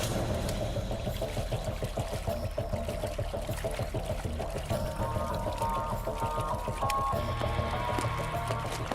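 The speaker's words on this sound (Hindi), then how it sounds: "चलो वहाँ हम लोग हाथ मुंह धो लेते हैं।" Water is poured for washing hands and face, a continuous splashing pour heard close and steady throughout, with a faint music-like background beneath it.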